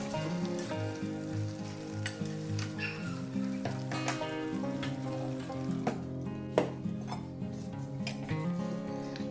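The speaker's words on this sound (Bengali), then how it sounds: "এবার গ্যাসটা একদম আমি কমিয়ে রেখে মাংসটা রান্না করব" Chicken with spices fries over a low gas flame, a steady soft sizzle with occasional clinks of a utensil against the pan, close by, while background music plays throughout.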